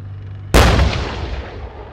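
A single loud Leopard tank cannon shot on a heathland firing range booms out abruptly, a sharp blast followed by a long rolling echo that fades slowly, with no speech.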